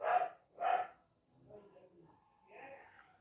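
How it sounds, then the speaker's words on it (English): A dog barks twice in quick succession, loud and close, followed by quieter mixed sounds that may include a whimper or yip in a cartoon scene. "I'm sick of that dog."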